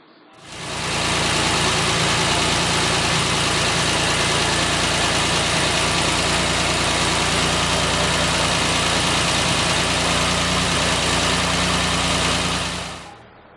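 A 1968 MGC engine idles steadily after an oil filter conversion, a loud, even, continuous rumble that holds throughout with no talking.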